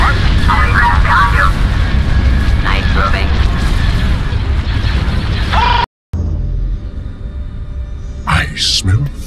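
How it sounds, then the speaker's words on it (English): Heavy booming blasts and rumbling crashes of cannon fire in a Star Wars game, with shouted voices over them, then a brief cut and quieter effects. "Prepare to fire all cannons!"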